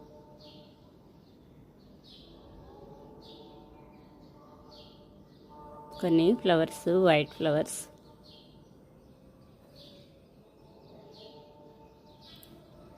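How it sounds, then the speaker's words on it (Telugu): Birds chirp faintly and repeatedly at dawn in a flowering home garden, including white parijatham blossoms, with short tweets spread across the scene and one louder burst of calls in the middle; a person speaks briefly. "early morning birds అరుస్తున్నాయి"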